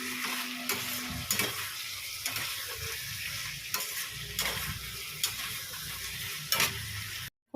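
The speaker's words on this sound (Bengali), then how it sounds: "আলুটা লাল করে ভেজে নিচ্ছেন" Potatoes frying in a pan, with a steady sizzle throughout and periodic scraping knocks as they are stirred, close up and without any talking.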